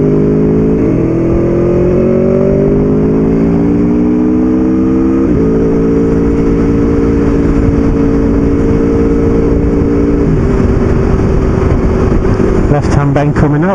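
Motorcycle accelerating out of a bend, a loud steady engine drone rising in pitch with gear changes, heard close with heavy wind rush and a voice talking over it.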